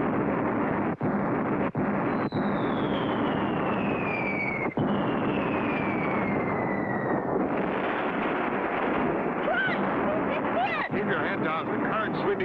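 Cartoon pirate ship cannon fire over a dense, roaring rush like wind and surf, with a long falling whistle of a shot flying past and a few sharp thumps, loud and continuous throughout.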